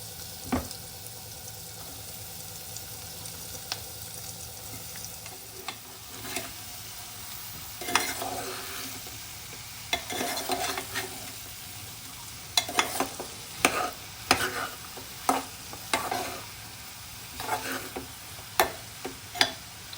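Chopped bottle gourd pieces fry in a pan for sorakaya curry, a steady soft sizzle broken by repeated scraping and clacking as a spoon stirs them, busier in the second half.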